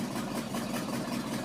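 An F-600 truck engine idles with a steady low rumble and a faint rhythmic puffing tick from an exhaust leak, close and unbroken, with no voices.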